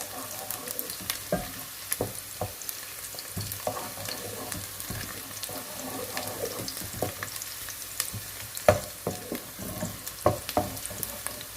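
Ingredients for palak masoor dal fry and brown in a pan, a steady low sizzle broken by frequent scraping stir strokes and small crackles, close and moderately loud.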